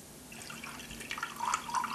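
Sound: blue water running from a tap

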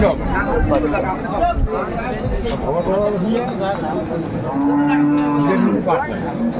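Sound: cows mooing at a cattle market

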